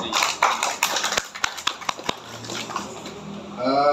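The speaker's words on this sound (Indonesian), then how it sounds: "Tepuk tangan luar biasa." Applause from an audience at a leaders' club testimonial gathering, a dense patter of claps for several seconds that thins out, with a voice starting at the end.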